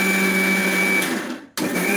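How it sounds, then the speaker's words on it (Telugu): An electric mixer grinder grinding dosa batter in a home kitchen gives a steady loud whirring drone that cuts out briefly near the end, then starts again. "పిండి ఇప్పుడే మిక్సీ పట్టుకున్నాను"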